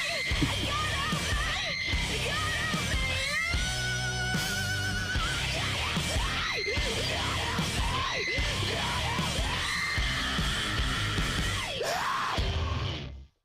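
Screamed female rock vocals from a song, loud and sustained over dense distorted guitars and drums, with raw yelling phrases pushing through the full band mix.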